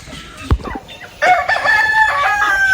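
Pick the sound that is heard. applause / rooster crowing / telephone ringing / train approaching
rooster crowing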